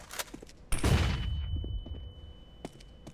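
In a shooter game a flashbang grenade goes off with one sudden loud bang that decays over about half a second, leaving a thin high ringing tone and a few faint clicks and footsteps afterward.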